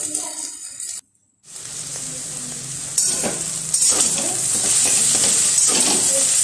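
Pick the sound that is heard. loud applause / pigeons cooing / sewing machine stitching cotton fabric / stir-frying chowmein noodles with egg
stir-frying chowmein noodles with egg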